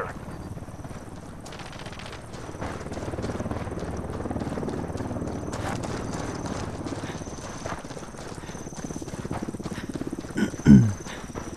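Helicopter arriving in the video game Ghost Recon: Wildlands, a steady rotor chop under game noise and brief speech, with a louder thump near the end.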